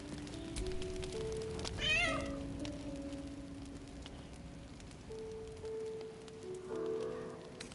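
A cat meows in the Baldur's Gate 3 video game, a clear, rising and falling cry near the middle, set over a steady ambient bed of low game music and faint crackling.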